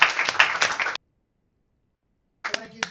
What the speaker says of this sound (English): clap your hands for our panel